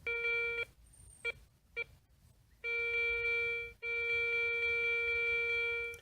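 A metal detector with a NEL Tornado coil emits a steady electronic tone in short bursts, then two long sustained sounds, clean and close with quiet gaps between, while field testing.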